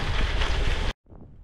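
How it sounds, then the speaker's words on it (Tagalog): Strong wind buffets the microphone during a hot 120 km gravel bike race, a loud continuous roar that cuts out abruptly near the end before a softer rumble returns. "Sa sobrang lakas ng hangin"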